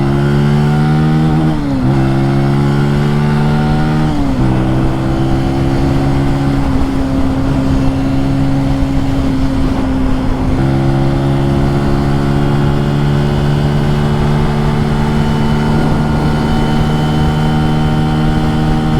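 A small motorcycle's engine drones loud and steady while it is ridden, its pitch climbing in stages and dropping briefly at each gear change, with no talking over it.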